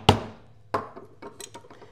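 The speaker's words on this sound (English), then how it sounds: "I will come back here with my stitching chisel, start up here at the top, get the square on here, and square up and create the holes" A stitching chisel is struck to punch holes in a leather belt cartridge strap, giving a sharp knock, then a second strike and a few lighter taps and clinks, close and fairly quiet.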